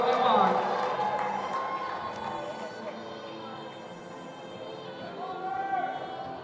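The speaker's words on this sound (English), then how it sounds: "they're cheering pretty loud for him" A crowd cheers for climber Palmer Larson after he tops a men's bouldering problem at a national championship, with steady, fairly loud mixed voices and whoops that swell at the start and again near the end.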